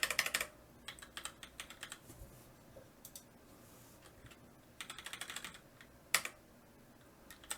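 Typing on a computer keyboard while working in Vim, with quick bursts of sharp key clicks separated by short pauses, close to the microphone and fairly quiet, with no talking.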